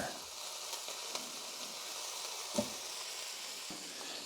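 Hamburgers cooking on a COSORI indoor grill, a soft, continuous sizzle with a few small pops and crackles, fairly quiet and steady with no voices.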